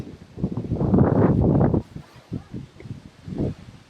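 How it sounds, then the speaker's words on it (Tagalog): A strong gust of wind buffets the microphone for a couple of seconds on the Masungi Georeserve Discovery Trail, then fades into softer intermittent puffs. "Hangin na naman."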